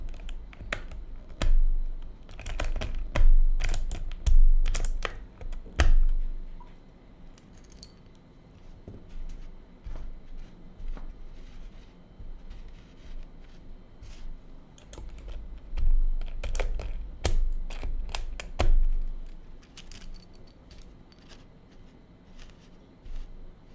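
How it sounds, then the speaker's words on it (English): Keycaps pried one by one off an Akko 5098B mechanical keyboard during a switch swap, giving scattered sharp plastic clicks and clacks in two busy bursts separated by a quieter stretch, close and alone with no talk. "So pull out the keycaps one by one."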